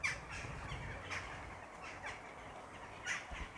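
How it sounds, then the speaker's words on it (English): Crows call in a cemetery, giving repeated harsh caws at a distance over faint background noise. The calls come in short bursts a second or so apart. "Weird bird noises going on"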